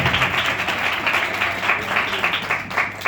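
Congregation clapping hands together during a Sunday church service, a steady, dense patter of many palms filling the room for a few seconds without pause.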